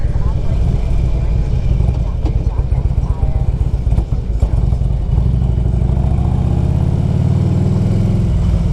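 A 2002 Harley-Davidson Electra Glide Ultra FLHTCUI motorcycle engine rumbles steadily near at hand, its low throbbing note persisting under a voice for the whole stretch.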